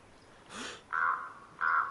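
Birds caw in DayZ, two loud harsh caws following a brief rustling burst, close and prominent over quiet outdoor ambience.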